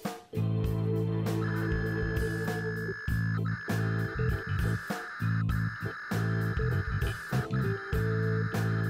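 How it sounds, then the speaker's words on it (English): Harsh modem data tones from a DIY 3DS modem cable chirp and hiss in bursts, with a sustained high whine and choppy static-like noise breaking in and out. "it sends and receives your files as modulated sound"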